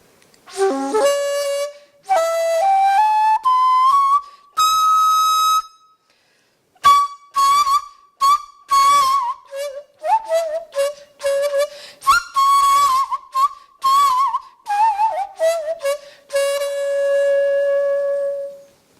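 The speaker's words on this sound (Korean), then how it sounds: "이게 바로 산조대금입니다." A sanjo daegeum, the Korean bamboo flute, played solo at a traditional music concert, with breathy sustained tones, sliding pitch bends and bright, strong high notes in phrases separated by short pauses.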